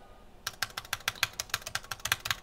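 Rapid, even keystrokes on a $3000 gaming laptop keyboard with a fault, clattering close and steady for about two seconds with no talk.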